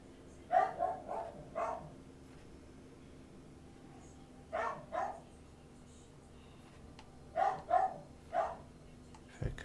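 A dog barks in short clustered bursts of two or three, spaced out with quiet gaps between, moderately close against a low background hum.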